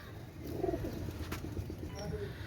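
Oman teddy pigeons coo in low, throaty, repeated phrases, close and fairly clear against a quiet background.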